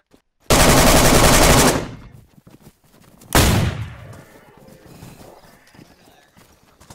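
Gunfire in a video game battle: a loud sustained burst of rapid shots, a pause, then another sharp burst that tails off into quieter distant battle noise.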